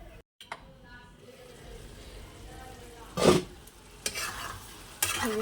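Food in a pan, with a little water poured in, giving a soft steady sizzle followed by a few louder hissing bursts and stirring scrapes close by.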